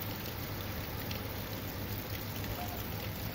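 Steady rain pours down during a thunderstorm, an even, dense hiss that holds at a constant level throughout with no voices.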